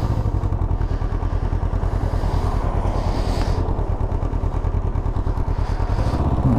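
A Can-Am Ryker 600 three-wheeler engine runs continuously on a test ride, a loud, close, steady rumble with a fast pulsing beat and faint clatter.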